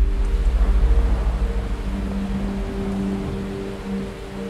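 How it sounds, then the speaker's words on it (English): Heavy surf and ocean waves from a ship at sea running into a big storm, with a loud, steady low rumble that pulses in the opening seconds and then settles into a continuous roar. No voices. "Wind howled and the ship pitched and rolled as it began to encounter bigger and bigger waves."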